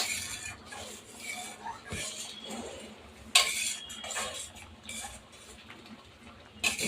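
A spoon stirs coriander powder into simmering egg curry gravy in a pot, giving soft scraping and swishing with occasional sharper clinks of utensil against the pan, fairly close and without talk.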